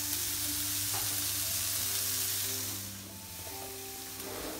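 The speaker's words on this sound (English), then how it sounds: "We're now cooking the ham." Ham fries in a pan with a steady, close sizzle and crackle, dipping slightly in loudness partway through, with no talking.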